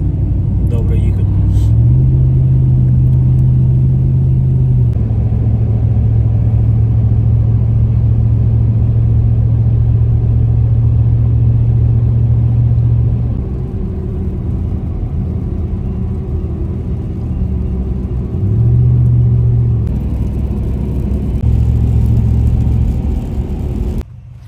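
A car drives on a thawing winter road near Banks Lake, Washington, with a steady engine hum and constant road rumble inside the cabin for the whole stretch.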